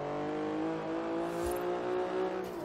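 Infiniti Q60 Concept engine in Forza Horizon 3 held at a steady, slightly stuttering rev, a continuous near drone with stacked harmonics and no talk over it.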